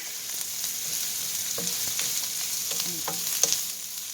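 Chicken fried rice sizzles steadily in a pan over a high burner, with scattered stirring scrapes and light clinks rising above the constant frying hiss, close and alone without talk.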